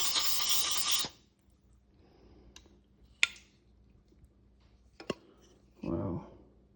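Cleaner sprays into the carburetor of a 2003 Kawasaki Prairie 360 4x4 in two short hissing bursts, one at the start and one near the end. Faint clicks and taps sit between them in near silence.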